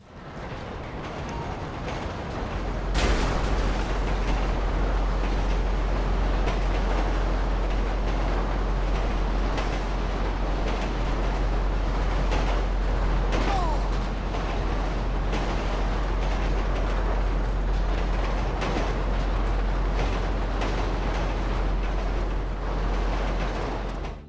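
Train in GTA 5 rumbling past, a loud sustained roar with heavy low-end rumble that swells in abruptly and holds steady for about twenty seconds, with clanks and rattles throughout.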